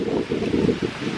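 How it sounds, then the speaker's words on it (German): Steady wind gusting across the beach at Bang Saree, a continuous rough low rumble with some surf-like wash underneath, close and fairly loud, with no voices. "Also heute ist ja windig, ihr seht es ja hier."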